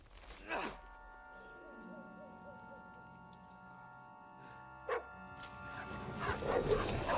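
A dog barks in Kingdom Come Deliverance 2: two sharp barks spaced a few seconds apart, with faint whimpering, whining tones between them over a quiet game background.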